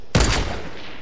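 A sudden loud burst of video-game gunfire, a rapid volley of shots in an online shooter, cracking out after a brief quiet and decaying into a reverberant tail.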